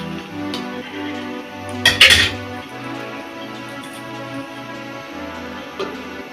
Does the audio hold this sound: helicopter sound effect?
no